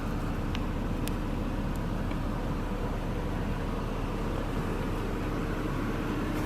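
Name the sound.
2011 Mercedes E350 convertible engine idling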